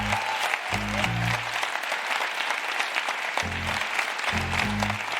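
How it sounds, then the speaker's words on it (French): Sustained applause from the public at a university thesis-contest final, clapping for the finalists, runs throughout at an even level, with low musical tones entering and dropping out underneath. "on peut les applaudir."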